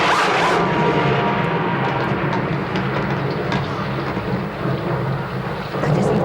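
Steady roar of heavy rain with rolling thunder, a storm sound effect in a period radio drama set at Haworth, loud and continuous throughout with no voices.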